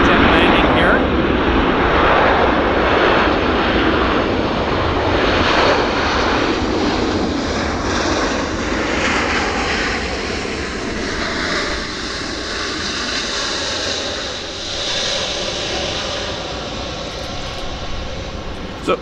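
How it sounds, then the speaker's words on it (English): A WestJet airliner landing at Vancouver International Airport: a loud, sustained jet engine roar that fills the whole stretch and fades only slightly toward the end, with a voice talking faintly underneath. "WestJet landing here."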